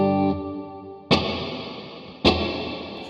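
An electric guitar chord is strummed twice through a Jet Pedals Revelation Reverb pedal on its room setting. Each strike rings out with a lingering, washy room tail, and the fading tail of an earlier note is heard first.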